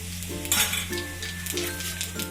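Mustard seeds, cumin and asafoetida sizzle and crackle in hot oil for a Gujarati handvo tempering, with a steady close frying hiss and a few light utensil clinks.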